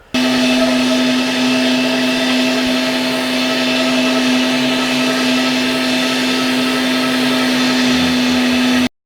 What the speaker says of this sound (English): I just wrapped up the fine grinding